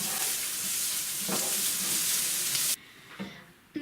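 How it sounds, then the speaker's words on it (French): Homemade taco filling sizzles loudly in a pan while being stirred, a dense, close hiss with faint scraping, cutting off abruptly before a few quieter clinks. "Et maintenant, nous allons faire revenir tout ça. Donc n'hésitez pas à bien mélanger."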